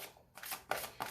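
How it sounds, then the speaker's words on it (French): Tarot cards handled and laid down on a table: quick soft shuffling and flicking, with a few light slaps of cards being set down, close and faint, with no voice. "Donc, on va recouvrir les cartes"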